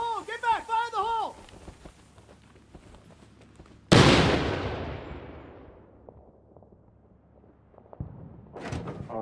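A C4 charge detonates in the Six Days in Fallujah video game: one sharp, loud blast that rolls off into a long decaying rumble, with a shouted voice just before it and another brief burst near the end.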